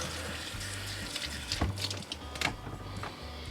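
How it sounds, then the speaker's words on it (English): A faucet runs water onto a towel while cleaning an RV ventilation fan, a soft steady splash and trickle with low humming and a few brief clatters, no voices. "So first we're just going to get our towel wet."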